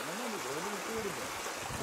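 A stream flows near a waterfall in a constant watery rush, heard as a steady hiss while someone talks over it close to the microphone.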